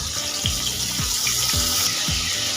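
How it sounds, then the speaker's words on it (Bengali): Water splashed from a spice bowl into masala cooking in a pan with chopped tomato and salt, a steady wet rush with a few low scraping swishes recurring roughly every half second, close and moderately loud, with no voices. "মশলার বাটিটা দিয়ে সামান্য পরিমাণে জল দিয়ে দিলাম"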